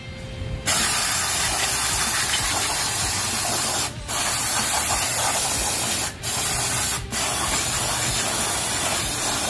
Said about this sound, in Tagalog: Gamit tayo ng CVT cleaner mga bok.